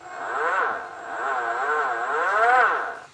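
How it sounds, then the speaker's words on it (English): An electric skateboard hub motor whines steadily up close, its tone rising and falling in smooth waves as the speed changes, with no talking over it. "The motor is on. The hub motor is beautiful."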